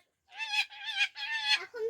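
A chicken gives a short run of three or four loud, close, nasal clucking calls in quick succession, with no talk over them.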